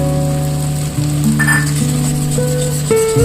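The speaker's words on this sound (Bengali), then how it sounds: "টমেটো পেস্টটা ভালো করে জিরে আদা বাটার সঙ্গে কষিয়ে নিতে হবে" Tomato paste fries with ginger-cumin paste in a pan, a loud continuous sizzle heard close up behind tonal background music, with no talking.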